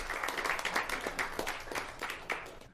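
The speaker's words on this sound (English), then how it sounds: "Please join us for one more round of applause to our teams" Short round of applause at a school board regular meeting, a modest group clapping with distinct individual claps audible, rising briefly then easing off.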